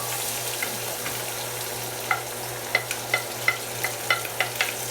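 Chopped green pepper, garlic and red onion fry in oil with a steady close sizzle, and a run of sharp pops and spits grows more frequent toward the end.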